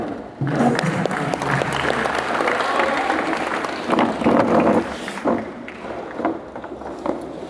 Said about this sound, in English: a big round of applause and a standing ovation